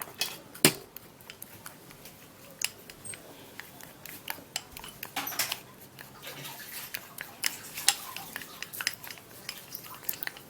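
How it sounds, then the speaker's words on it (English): A paste is mixed in a bowl for a bedtime belly-fat remedy. Quiet, scattered clicks and scrapes of a utensil against the bowl sound at an irregular pace over a near-silent background. "And mix and mix very well."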